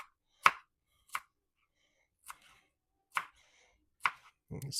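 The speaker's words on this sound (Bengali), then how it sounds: "ধনেপাতাগুলো আমি কুচি, কুচি করে কেটে নিচ্ছি" Knife chopping fresh garden coriander leaves finely on a board, five separate sharp cuts spaced about a second apart, fairly close and clear, with a muffled rustle at the very end.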